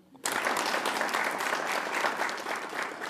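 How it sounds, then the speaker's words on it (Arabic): Audience applause breaks out abruptly after a brief quiet moment and holds steady, loud and dense, at a quiz show. "صفقوا له"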